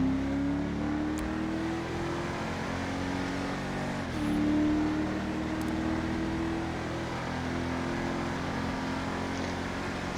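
Camaro in the FiveM driving game accelerating with a steady rising engine whine, a brief dip as the gear changes, then climbing again, loud and continuous with no talk.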